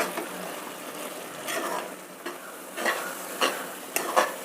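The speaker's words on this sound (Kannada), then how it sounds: "ಇದೆಲ್ಲ ಚೆನ್ನಾಗಿ ಹೊಂದ್ಕೊಂಡು ಎಣ್ಣೆ ಸುತ್ತ ಬಿಡೋವರೆಗೂ ಹುರಿಬೇಕಾಗುತ್ತೆ" Avarekalu (field bean) mixture being stirred and roasted in oil in a pan, with a soft continuous sizzle broken by several distinct scraping strokes and light metallic clinks toward the end, close up and alone.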